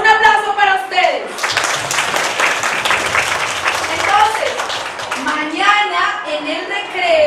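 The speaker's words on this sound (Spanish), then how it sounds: "Un aplauso para ustedes" A classroom of children claps in a brief burst of applause in Samacá, Boyacá, a steady patter of many small hands, with an adult and kids talking before and after.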